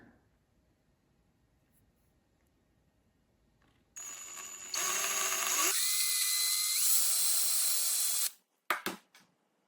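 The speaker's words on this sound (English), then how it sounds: "I use these little jewelry drill bits." A high-pitched whining small jewelry drill bit runs steadily for several seconds, its pitch shifting under load while drilling a part for a 1/14 scale model trailer, then cuts off with a few short bursts.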